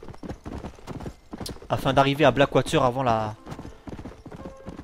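A horse galloping in the Red Dead Redemption video game, rapid steady hoofbeats running under someone talking in French throughout.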